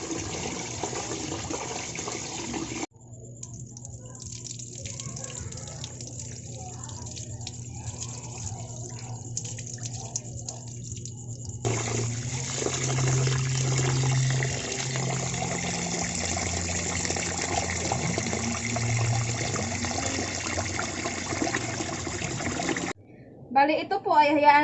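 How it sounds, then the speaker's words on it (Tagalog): White rice is washed in water, with sloshing and trickling of water and grains over a long stretch, sometimes quieter and sometimes fuller, ending with a brief louder burst. "Hugasan lang po natin siya ng 3 beses para malinis po talaga ang ating bigas"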